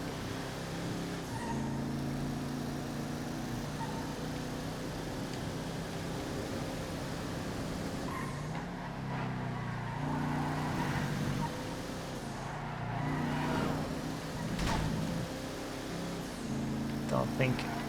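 A Manana car lapping a race track in GTA FiveM, its engine a steady droning hum with gradual pitch shifts as it accelerates, heard over continuous background noise.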